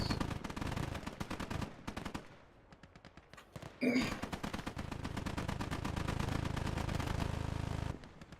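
Minenwerfer mortar fire aimed at a tank in a war video game, set among dense rapid gunfire: a heavy burst lands midway, with steady automatic shots rattling before and after, loud and close.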